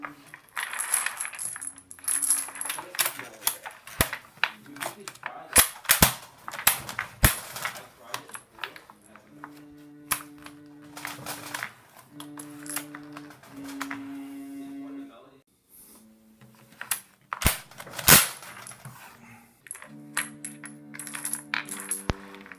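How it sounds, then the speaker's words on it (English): Cartridges are pressed into a new USGI magazine with a benchtop loader, giving sharp metallic clicks and clacks in irregular bursts, with ringing tones and pauses between; a voice talks throughout. "This is a new USGI magazine and it is not loading easily, but we got it in."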